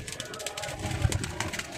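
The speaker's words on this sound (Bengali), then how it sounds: "ভালো ব্লার লাইনের কবুতর এগুলা" Racer pigeons coo softly and repeatedly at close range, low throaty rumbles over faint background chatter of birds.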